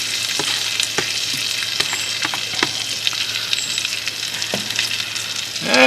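Frozen pre-chopped food cooks in a pan at a hunting camp for breakfast, a steady close sizzle broken by scattered clinks of stirring and a louder scrape at the end, with no talking.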